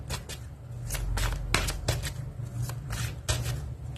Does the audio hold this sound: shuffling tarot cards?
yes